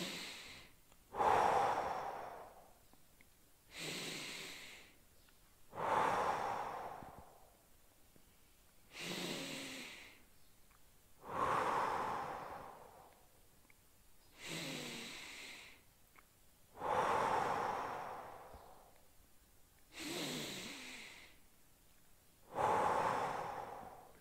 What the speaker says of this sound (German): wir atmen hier fünfmal tief in den Bauch